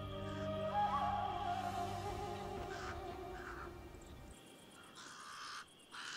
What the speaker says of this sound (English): The pied crows are getting worked up about something.